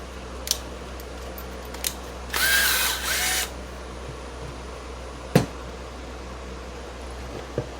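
Power drill driving a screw into studio fixtures, one short whirring burst of about a second, close by, between sparse clicks and knocks over a low background hum.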